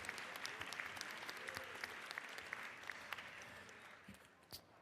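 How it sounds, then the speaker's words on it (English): Audience applause in the Georgia House chamber, sustained clapping from many hands with scattered sharper claps, moderately distant and fairly quiet, thinning out near the end. "Let's give him a round of applause."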